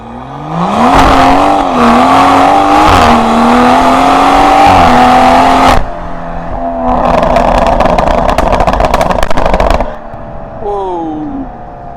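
A 500 hp BMW M140i with a B58 engine launches hard on budget rear tires, its engine loud and close, revving up through rising pitch, shifting, then pulling again before easing off.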